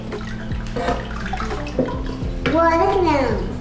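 Water and small fish pour from a container into an aquarium tank, a near, steady gushing splash that swells toward the end, with a child and an adult talking over it.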